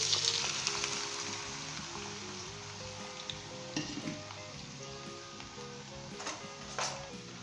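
Small potato cubes sizzle steadily in hot vegetable oil, a bright continuous frying hiss with occasional light stirring clinks under background music.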